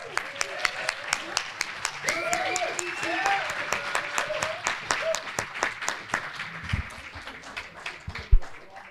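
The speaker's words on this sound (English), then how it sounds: "How about another round of applause for our guest speaker tonight?" A crowd at an Air Force ball at Lajes Field in the Azores claps and applauds, sharp individual claps scattered across the room, with people talking and cheering over it before the clapping thins out.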